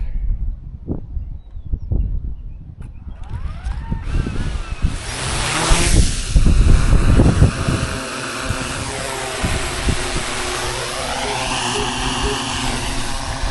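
A DJI Mavic 4 Pro drone spins up and lifts off outdoors on a farm, starting with handling clicks before its propellers rise into a loud, steady whine that shifts in pitch as it climbs away.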